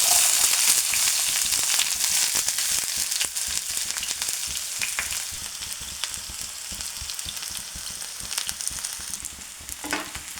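Sliced onions fry in a hot pan with mustard seeds already popping, making a steady loud sizzle with crackles and stirring scrapes, cooking alone for the length of the clip without any talk.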